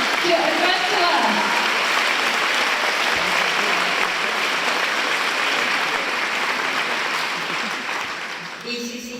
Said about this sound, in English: Let's give a biggest round of applause and welcome Her Excellency Tsai Ing-wen, President of Taiwan